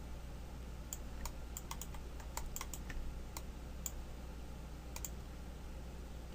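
Quick keyboard taps and mouse clicks in a Cinema 4D animation session as keyframes are set with ctrl-click, scattered sharp ticks over a faint steady hum, close and fairly quiet, no voices.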